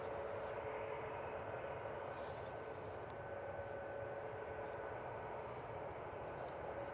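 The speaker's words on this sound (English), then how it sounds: "From Guernsey, it's an ATR 72." An ATR 72 turboprop airliner from Guernsey coming in to land at Manchester Airport, a steady distant drone with a faint tonal hum, even and unbroken throughout, with no voices over it.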